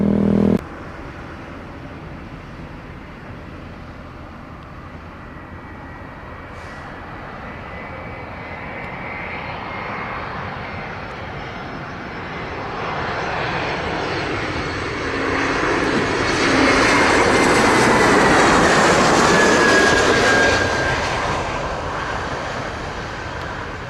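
An American airliner lands on runway 25 at Montego Bay, Jamaica; a broad jet roar swells steadily from a distant rumble to a loud, close peak near the end, then begins to ease off.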